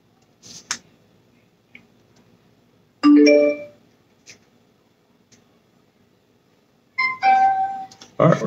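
A Bluetooth torch speaker sounds two short bright multi-tone chimes as it connects, with soft handling taps in a quiet room.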